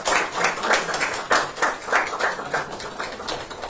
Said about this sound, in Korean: 네, 박수 한번 이렇게.